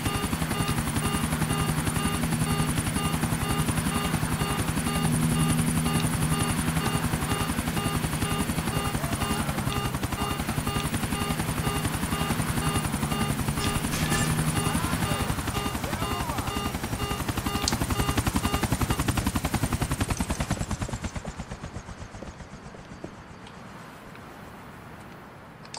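Helicopter flying in the video game GTA 4, its rotor throbbing loud and steady for about twenty seconds before the sound drops away sharply near the end.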